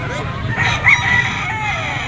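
A white-legged Boston Sweater bloodline rooster for sale at a market in Lipa, Batangas crows once, fairly close and clear, over a murmuring outdoor background.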